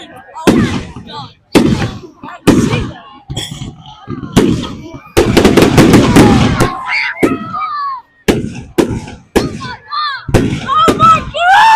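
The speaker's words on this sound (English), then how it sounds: "the fireworks are so good" Fireworks display at Bognor Regis football club in October, loud sharp bangs and crackling bursts in irregular succession, including a rapid volley of rapid cracks, close and powerful, with people exclaiming between blasts.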